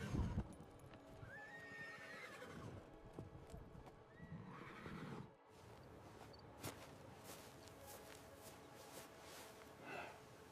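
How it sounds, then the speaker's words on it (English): A horse neighs and snorts near the start while hooves clip-clop steadily across the clip, joined by a further whinny later and soft outdoor background noise. "This is a strong horse for your people."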